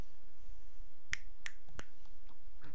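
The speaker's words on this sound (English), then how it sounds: "Don't make me snap my fingers." Three sharp finger snaps ring out in quick succession near the middle, with a fainter fourth snap at the end, over a low steady background hiss.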